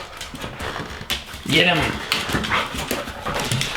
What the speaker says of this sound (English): it's because the dogs are getting their morning wrestles out.